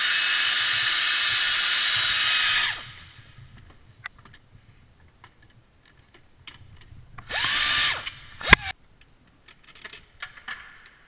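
Power drill spinning out the upper timing cover bolts on a Kia Spectra engine: a loud steady whir for nearly three seconds, then quiet, then a second shorter burst with a sharp clank, followed by faint shop noises.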